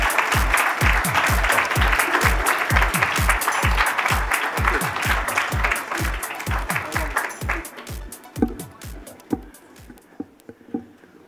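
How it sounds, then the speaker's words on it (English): A large audience applauds steadily for Ambassador Eric Garcetti at the USIBC India Ideas Summit closing keynote. Dense, loud clapping fills the room over a low rhythmic thump, then thins and fades into scattered claps near the end. "Can I have a round of applause, please, for the Ambassador?"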